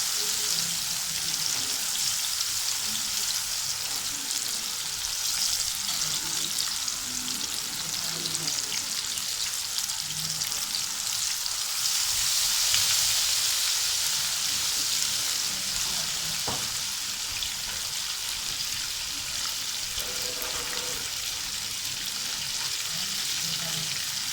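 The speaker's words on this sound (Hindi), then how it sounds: "ऑयल में फिश डाल के हम इसको हिलाएंगे नहीं।" Fish pieces frying in hot oil, a steady dense sizzle and crackle running continuously and close, with occasional faint spatters and no voices.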